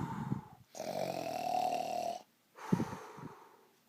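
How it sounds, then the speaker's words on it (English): Shadow Freddy from Five Nights at Freddy's snores loudly in a long, rasping inhale with a wheezy buzz, followed after a short gap by a snort and another rougher breath, all close and with no talking. "Shadow Freddy! Please stop snoring!"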